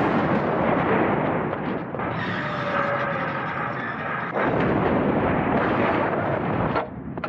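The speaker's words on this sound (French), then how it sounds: "Un canon de 75, ça peut tirer 20 obus par minute." French 75 mm field guns fire a continuous barrage of heavy booms and rumbling blasts. The sound is loud and dense, with no quiet gaps between shots.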